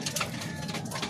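A racing pigeon coos softly and steadily, close by, during a training release in Tanay, Rizal. The low, rolling calls sit over faint outdoor background noise.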